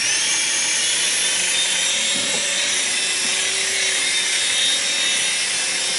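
A small Air Hogs Jackal RC toy helicopter flies nearby with a steady, high-pitched electric motor whine and rotor buzz that holds constant throughout, with a slight wobble in tone partway through.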